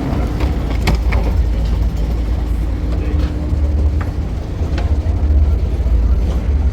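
A Swiss train rumbles steadily nearby with low mechanical drone and occasional clacks and squeals, heard from close by on the platform or inside, with faint voices in the background.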